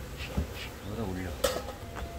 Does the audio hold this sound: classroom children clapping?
no